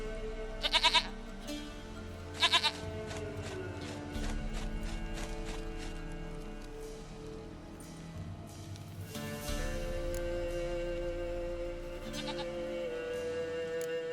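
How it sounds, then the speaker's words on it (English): A goat in The Witcher 3 video game bleats twice in short bursts over a soft musical backdrop, followed by hoof clip-clops and a later louder bleat. "Goat of mine. Dearest,"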